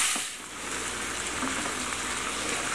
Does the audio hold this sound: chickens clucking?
no